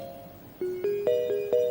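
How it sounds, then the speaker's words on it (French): A home telephone rings with short electronic tones in quick, stepped succession, each a clear, fairly close beep layered over a quiet background. "C'est le téléphone de la maison,"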